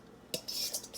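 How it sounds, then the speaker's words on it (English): Meat and seasoning get scraped from a pan into a small amount of boiling water in a pot while making Jamaican stew chicken, a short burst of close metal-utensil scraping and stirring. "Scraping all my seasoning in there."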